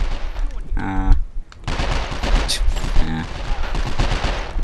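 Bursts of gunfire from the video game 24: The Game crackle in short volleys over a busy game soundtrack, mixed with faint background noise.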